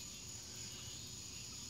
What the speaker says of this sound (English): The frogs and the other noises of the night have started their nightly duties.